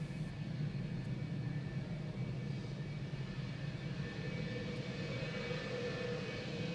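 Fixed-wing aircraft at an airshow, engines running steadily as it readies for takeoff, a constant distant drone with no break.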